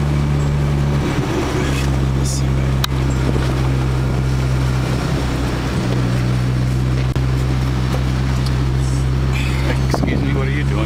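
A rebuilt Ford Focus drives along with a steady loud engine and road drone inside the cabin, a low constant hum under occasional talk and small knocks.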